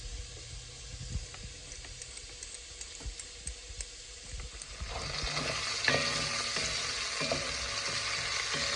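Bacon sizzles and spits steadily in a frying pan, a dense crackling hiss that grows louder and brighter about halfway through, with occasional pops and no talking.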